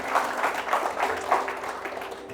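Wedding guests applauding during a candle-lighting ceremony, a steady soft round of many hands clapping in a room, moderately distant.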